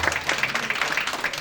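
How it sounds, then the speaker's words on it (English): An audience at a Detroit community gathering bursts into applause, a dense, close, continuous patter of many hands clapping throughout, heard alone without talk. "Let's give her a nice round of applause."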